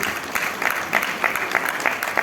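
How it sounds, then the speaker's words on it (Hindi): Audience applause at a Hindi event featuring actress Shilpa Shetty, a steady patter of many hands clapping close by with irregular louder bursts, continuing without letup across the whole stretch. "भाई जोरदार तालियां होती हैं"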